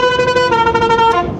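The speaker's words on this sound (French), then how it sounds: "je klaxonne" Truck air horns installed to play a tune, a loud, close, bright melodic run of tonal horn notes lasting over a second before cutting off.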